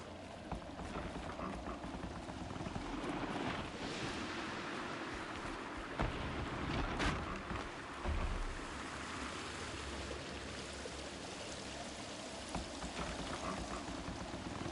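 A waterfall in Horizon Zero Dawn's frozen wilds rushes in a continuous, dense roar of pouring water, steady and enveloping, with a few faint clicks and bumps over it.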